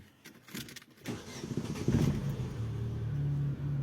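A car engine cranks and catches after a new ignition switch contact group is fitted, with a short jingle of keys first, then a steady, fairly close idle rumble that holds to the end.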